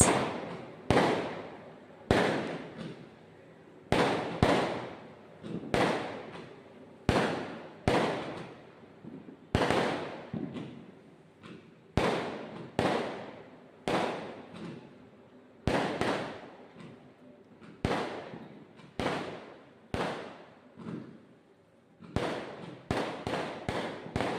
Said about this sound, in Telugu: ఈ టపాసులు అనేది దసరా నైట్ రోజు వెలిగించారు